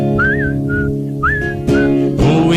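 Melodic whistling in imitation of a canary, rising and falling trills in short phrases over a steady sung accompaniment of music, close and clear.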